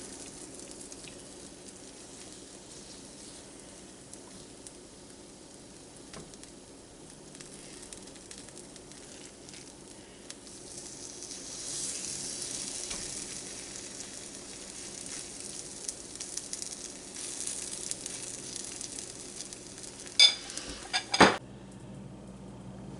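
Mexican corn fritters frying in a cast iron pan give a soft, steady sizzle that grows slightly louder partway through, ending with a few sharp clinks of a utensil against the pan; no one talks.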